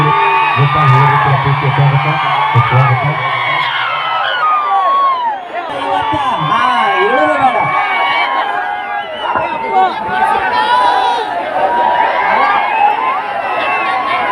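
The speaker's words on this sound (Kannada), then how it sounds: "ಸಿಕ್ಕಾಪಟ್ಟೆ ಕ್ರೌಡ್ ಸೇರಿಬಿಟ್ಟಿರಿ" A large crowd at a North Karnataka folk song event cheers loudly and continuously, with whoops, yells and overlapping shouting voices filling the space throughout.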